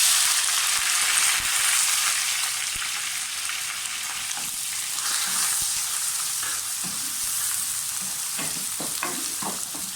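Onions sizzle and crackle steadily in hot ghee with cinnamon pieces and black cardamom for mutton bhuna, a continuous fine hiss with occasional stirring knocks and no talking.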